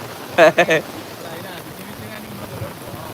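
Rain falls steadily during a flood as Chalippadam overflows its banks, a soft, continuous hiss under brief talking.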